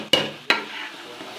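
Eggs being gently stirred in a pan, with two sharp utensil knocks against the metal followed by a soft, fading scrape and light sizzle.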